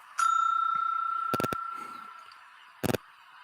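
A bright bell ding rings out and decays slowly over a couple of seconds, cut through by short clicky bursts and a second quick clatter near the end, with no voices.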